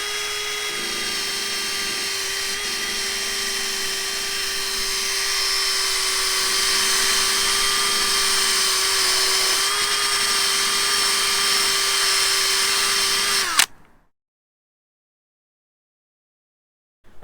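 A power drill spins a vinyl eraser wheel against the paint of a 17-year-old Ford Mustang to strip racing stripes, giving a steady high-pitched whine that runs loud and unbroken for about fourteen seconds before cutting off abruptly.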